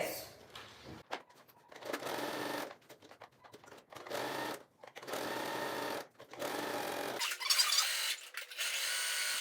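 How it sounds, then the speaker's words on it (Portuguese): Domestic sewing machine stitching a mesh pocket onto a lining, running in several bursts of rapid whirring separated by short pauses, close and clear. "E agora eu vou passar uma costura prendendo o meu bolso de tela aqui no forro"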